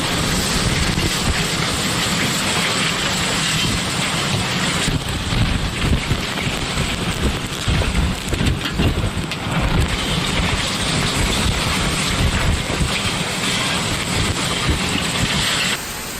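Torrential storm rain pours in a dense, continuous roar with heavy wind buffeting the microphone, loud and unbroken throughout; distinct thunder claps are not evident.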